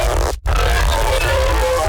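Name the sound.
dubstep growl without spectral gate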